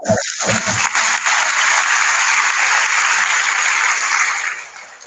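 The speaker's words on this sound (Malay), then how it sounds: "Berikan tepukan kepada pihak sekolah anda." Students at a school transition programme talk give the school a round of applause, a full, even burst of clapping that starts abruptly, sustains for several seconds and then fades out.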